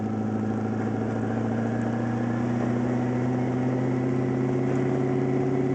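Steady, smooth idle of a twin-turbo LS1 V8 swapped into a Mazda RX-7 FD, a loud, even low engine drone holding constant throughout with no talk over it.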